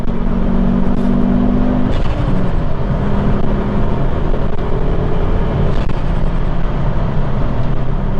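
Ford Focus ST with four-wheel drive and about 465 brake horsepower accelerating hard, a loud continuous engine roar with gear changes as revs rise and drop, heard alone without talk.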